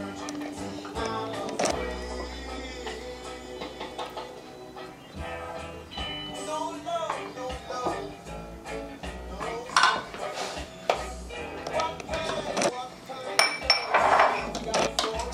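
Tuna mousse is spooned into a ramekin in a home kitchen, with scattered clinks and scrapes of a utensil against dishware, some close and sharp, over low background noise.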